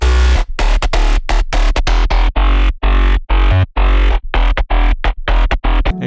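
Mid bass with the high frequencies filtered away, in an electronic dance production: a loud, heavy, distorted bass groove that is repeatedly chopped into short rhythmic bursts with brief gaps, playing alone without voices.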